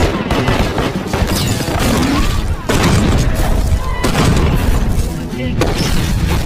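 Weapons training scene from an action film, with booming gunshots and bursts of fire repeating in dense, loud clusters, separated by brief gaps and mixed with heavy impacts.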